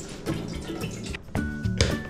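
About 1.5 litres of water poured into a cooking pot in a home kitchen: a short splashing, gurgling pour with brief pauses, fairly loud and close, with no talk over it.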